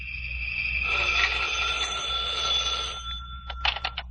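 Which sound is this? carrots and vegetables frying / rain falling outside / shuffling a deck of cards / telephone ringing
telephone ringing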